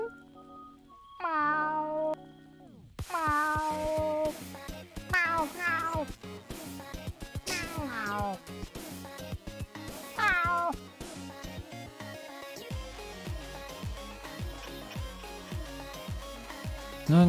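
Gary the snail from an AI SpongeBob game meowing over and over, a long run of repeated cat-like meows with bouncy background music running steadily underneath.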